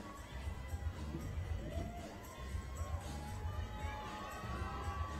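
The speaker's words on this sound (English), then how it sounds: "Crowd really getting behind him as he waves for some support." A crowd at the 2019 Ice Climbing World Cup lead semi-finals in Denver cheers and shouts continuously, a lively roar with whistles and yells rising and falling throughout.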